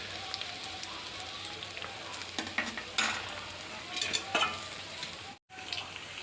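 Medu vada made from urad dal batter frying in hot oil over low heat, giving a steady close sizzle and crackle with brief stirring scrapes, continuous throughout and ending in a short break.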